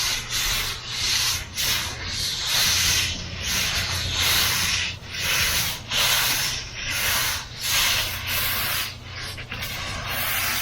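Spray coating being applied outdoors in the rain to a garbage can and shed pad, heard as repeated broad hissing sprays in rhythmic pulses of about a second each, close and fairly loud over a low steady rumble.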